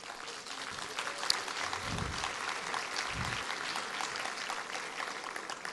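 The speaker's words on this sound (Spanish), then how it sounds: "Un fuerte aplauso para él." An audience at an academic anniversary event on maize applauds a visiting doctor, a sustained, even patter of clapping from a large group in a hall.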